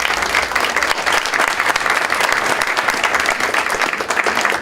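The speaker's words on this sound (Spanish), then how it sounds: "les pido un aplauso, por favor, para ellos" Loud, dense applause from a conference audience for three panelists at a session on emergency preparedness, continuous clapping filling the whole stretch without speech.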